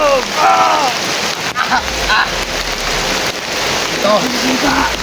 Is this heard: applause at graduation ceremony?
no